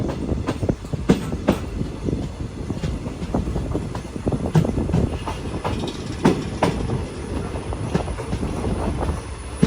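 At Cheruvathur railway station the Mangaluru Express rumbles past close by, with rapid rhythmic wheel clatter and intermittent metallic squeals over nearly ten seconds of continuous rail noise.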